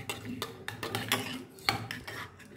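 Cracked egg being mixed with chopped onion and salt in a bowl, a run of quick clinking scrapes of a utensil against the dish in uneven bursts.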